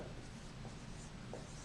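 Writing in a notebook during a maths lesson on one-step equations, a soft continuous scratch of pen on paper at close range with a couple of faint strokes, no voices.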